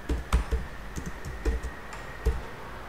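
Keystrokes on a computer keyboard while writing PHP and AJAX code for a hospital management system, a close run of uneven taps with a few louder strikes, no voices.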